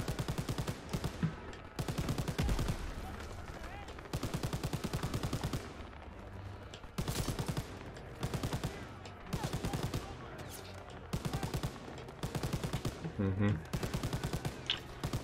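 Continuous rapid gunfire from a Call of Duty WW2 match crackles in long, dense bursts with brief gaps, loud and close, under occasional speech.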